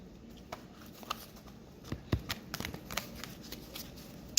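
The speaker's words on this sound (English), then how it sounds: "I was gonna give it a little shuffle there" Tarot cards given a brief shuffle, a run of soft riffling, papery slaps and patters clustered mid-clip, close and fairly quiet, with no talk over them.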